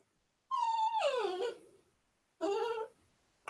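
A dog gives two short high whimpering cries close by, the first a falling whine about a second and a half long, the second briefer after a pause, with silence around them.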